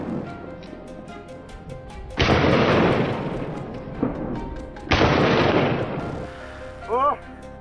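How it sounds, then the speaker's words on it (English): Rapid, intense gunfire from hunters shooting at wild boars near farmland comes in two loud dense bursts of overlapping blasts, with quieter stretches between and a brief sharp burst near the end. "gunfire broke out, rapid and intense"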